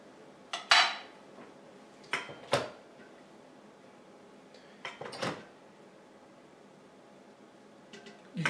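Steamed rice served onto a plate in a home kitchen, several sharp scraping and clinking utensil hits against dishware in separate bursts, with quiet gaps between.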